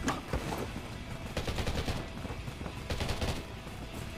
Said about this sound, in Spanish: Estoy escuchando más disparos.